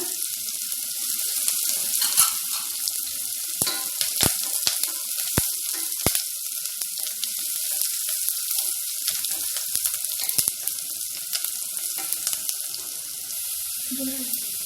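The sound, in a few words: onion frying in hot oil tempering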